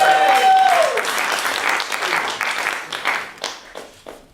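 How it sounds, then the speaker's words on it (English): Audience applause fills a poetry performance venue, sustained clapping from a crowd after an opening sung or whistled tone, tapering with scattered claps toward the end. "Would you please give them all a round of applause?"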